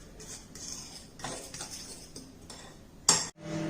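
A spoon scrapes and clinks against a bowl while stirring a Mysore pak mixture partway through microwaving, with scattered light taps and one sharp clink near the end, close up and fairly quiet.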